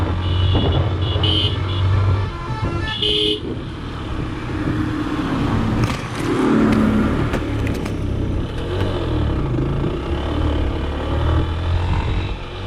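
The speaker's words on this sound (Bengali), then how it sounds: "বাইক খুব একটা স্পিডিং করতে পারতেছি না, এই রাস্তাতে খুব আস্তে যেতে হচ্ছে" A motorbike ridden slowly over a rough, broken road on the way to Bandarban, its engine droning and rising and falling unevenly, with loud wind and rattling noise throughout.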